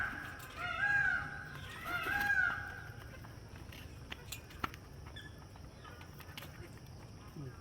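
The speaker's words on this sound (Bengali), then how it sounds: "এত কিউট এই পাখিগুলো বলার বাইরে" Birds at a safari park call in a couple of loud, rising squawking bursts near the start, followed by quieter scattered chirps and ticks over a faint background hum.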